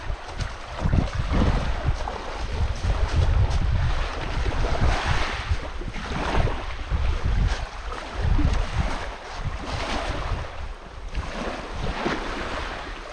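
Steady sea surf washes in and out at the shoreline of Kral Koyu, a bay on Turkey's Lycian Way, mixed with gusty wind rumbling against the microphone, no voices.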